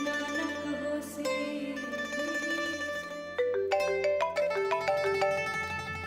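A phone rings with a melodic electronic ringtone, steady and fairly quiet, its tones repeating with a brighter chiming pattern in the second half.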